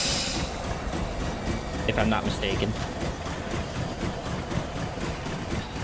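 A steam train running in The Long Dark video game, a steady low engine rumble and rolling rail noise throughout, with a person talking over it.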